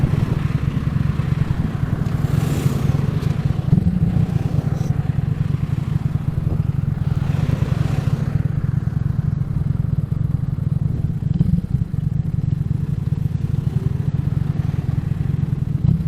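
Honda Grom motorcycle ridden through a tree-lined stretch, a constant close low engine hum with wind rush and light rattles, steady throughout.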